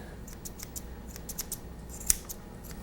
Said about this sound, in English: you can notice I'm holding my scissors at a 45-degree angle, and I'm staying far away from the pads of the feet